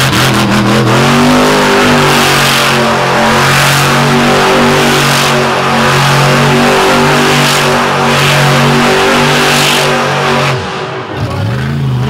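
A monster truck engine revs hard at a 2023 dirt drag race, a loud, sustained, heavy roar whose pitch rises and holds for many seconds before dropping away near the end, with no talk.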